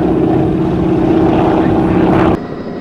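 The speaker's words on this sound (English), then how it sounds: "This is a heavy aircraft and not the easiest of aeroplanes to do aerobatics in and display" A heavy propeller aircraft performing aerobatics at an airshow: a loud, steady engine drone with a rough, buzzing tone, close by, that cuts off abruptly near the end and leaves a quieter hum.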